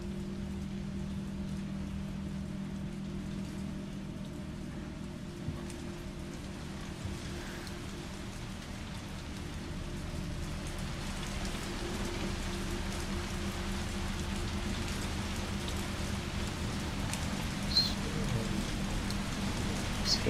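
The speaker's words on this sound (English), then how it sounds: "It's heavy rain." Steady heavy rain in the game Resident Evil 3 pours continuously at an even, dense hiss with a low rumble beneath, unbroken for the whole stretch and no voices.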